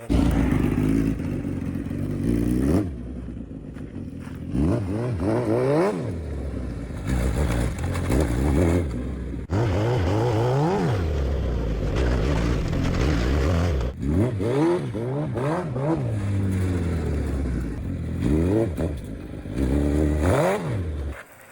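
A Honda CRF 450 dirt bike fitted with a Suzuki Hayabusa engine revs hard and repeatedly, pitch climbing and falling through gear changes, loud and close with clattering over rough ground and logs.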